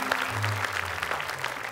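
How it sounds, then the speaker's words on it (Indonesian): A small audience gives a short spell of applause, a steady patter of claps heard close, with a low murmur of voices underneath. "Tepuk tangan. Tepuk tangan."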